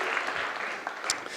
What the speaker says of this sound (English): big applause to them